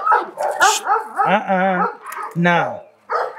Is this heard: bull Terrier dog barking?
yes